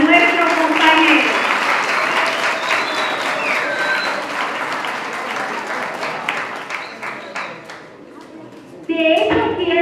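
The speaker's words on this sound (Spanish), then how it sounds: "Aplauso de nuevo para nuestro compañero." Conference audience applauding a colleague, loud dense clapping from a crowd that gradually thins and fades, then a brief burst of voices and sound near the end.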